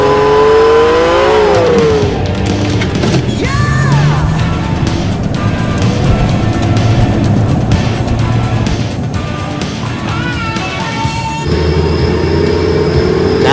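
A car engine revs and roars in the Shadow Warrior video game, loud and continuous with rising pitch sweeps, mixed with game sound effects.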